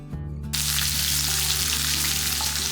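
Small onions and dried red chillies fry in a pan for a spicy chutney, giving a loud, steady sizzle that swells abruptly after a brief quieter start and crackles continuously with no one talking.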